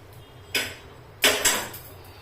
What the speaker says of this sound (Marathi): मी आता इथे एक वाटी खोबरं घेतलेलं ते भाजून घ्यायचं आपल्याला